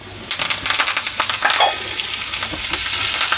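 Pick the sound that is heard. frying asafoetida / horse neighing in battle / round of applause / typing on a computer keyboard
frying asafoetida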